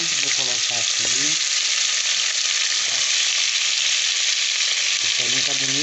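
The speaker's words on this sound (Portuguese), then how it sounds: "Agora vou deixar ela fritar um pouquinho aqui" Pork ribs fry in a pan with browned garlic, a loud, dense, hissing sizzle throughout, with brief bursts of a voice talking over it at the start and end.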